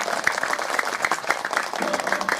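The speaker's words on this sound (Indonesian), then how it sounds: "Tepuk tangan untuk Riyadul Hidayah" An audience at an Islamic religious gathering gives a short, dense round of applause for Riyadul Hidayah, a busy patter of many hands clapping together.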